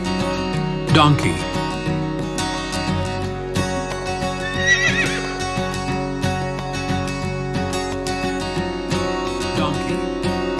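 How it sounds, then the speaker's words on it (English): A braying animal call rises out of a busy musical backing, with a second, higher wavering call a few seconds later, both fairly loud. "Donkey."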